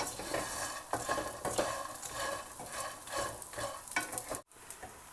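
Edible gum (gond) roasting in a hot wok (kadhai) sizzles and crackles steadily while a spoon stirs it with repeated scraping strokes. No voices.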